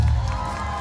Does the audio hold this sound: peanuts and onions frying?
no